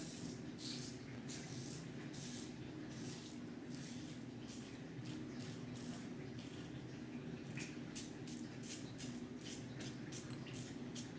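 A Parker 65R safety razor drawn across the face against the grain, ear to nose, gives a steady run of short scraping strokes, close and quiet, repeating in a regular rhythm over soft background hiss.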